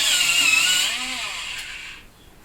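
A brown coloured pencil being sharpened, a close, steady scraping whir for about two seconds before stopping, alone with no talk.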